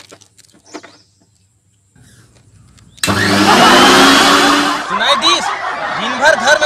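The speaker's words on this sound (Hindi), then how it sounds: "नहीं अब मैं मिक्सी नहीं सुनना है।" A kitchen mixer grinder switches on and runs loudly with a dense whirring roar, partly masked by laughter and talk in a domestic room.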